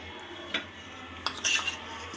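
A spoon clinks against a bowl a few times while gram flour is added to rice flour for eggplant fritter batter, with light, sparse taps and scrapes close by in a quiet kitchen.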